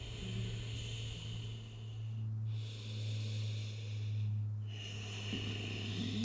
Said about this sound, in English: Another breath here.